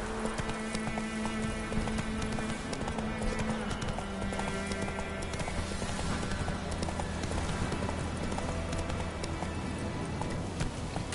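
Roach, a horse in The Witcher 3 on PS4, gallops with steady, dense clip-clop hoofbeats throughout, set against game music and ambient sound, with a brief whinny in the mix.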